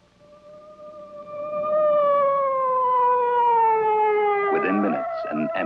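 An ambulance siren with a single long falling tone sounds, growing louder, then breaks into choppy bursts near the end.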